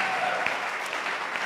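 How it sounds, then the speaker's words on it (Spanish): Applause fills a church service: a steady wash of many hands clapping from the congregation, sustained and even across the whole short stretch. "Déselo al Señor, un fuerte aplauso."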